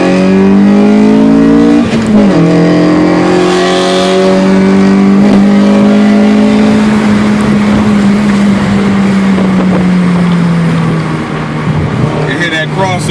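A Honda B-series VTEC engine revs hard on a road drive, with a loud harmonic whine that climbs steeply, shifts character through the VTEC crossover, then sweeps back down under wind and road roar.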